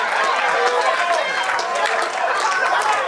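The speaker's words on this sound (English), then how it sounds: "Kyle hears the crowd." A wrestling arena crowd roaring and cheering continuously during a match between Kyle Matthews and Carlie Bravo, a dense, loud wash of voices with broadcast commentary mixed in.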